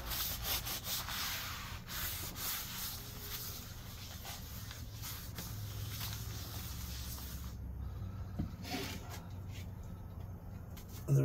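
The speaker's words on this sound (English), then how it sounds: "And now it's time to put a little bit of oil on. Spread that around. Cover all surfaces." Oil is spread across the cleaned, steel surface of a Blackstone griddle, giving a steady, close rubbing and scraping texture throughout, alone with no talk and a brief sharper scuff near the end.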